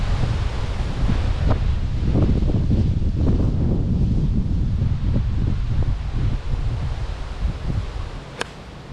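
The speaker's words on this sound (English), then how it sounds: "That wind is brutal, isn't it?" Strong gusting wind buffets the microphone on an open golf course, producing a loud continuous roar with rustling surges and no other sounds standing out.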